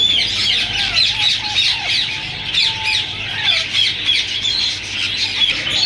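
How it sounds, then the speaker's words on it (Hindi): Green ring-necked parakeets in breeder pairs at a Sunday bird market in Bahawalpur give a dense, continuous stream of shrill squawks and chirps close by. Faint crowd hum runs underneath. "ये थर्ड पोर्शन के हमारे पास कुछ ब्रीडर पेयर्स हैं, ग्रीन रिंग नेक के"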